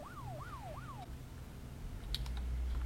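A fire engine siren in the video game Altis Life wails in three quick rising and falling sweeps over a low engine hum, then stops, followed by a few faint keyboard-like clicks.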